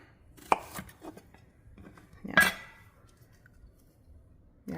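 Zucchini cut into fries on a board with a knife: a few separate chops and taps, one louder cut in the middle, spaced by quiet pauses, no talking.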